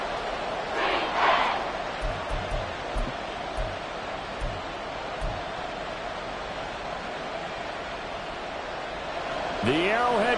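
A stadium crowd at Arrowhead roars in the Madden football game Raiders versus Chiefs, a dense, steady wash of cheering noise held throughout, with announcer commentary rising briefly over it near the start and end.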